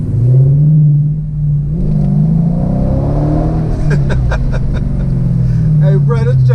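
A Dodge Charger R/T with the 5.7 Hemi V8 rumbles and revs in race mode, a loud deep engine drone rising and settling, while someone talks excitedly over it.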